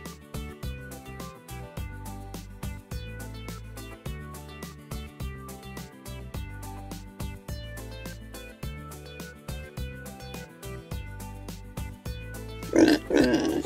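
Short piglet oinks and grunts near the end, over a loud, steady rhythmic music track with thumping bass.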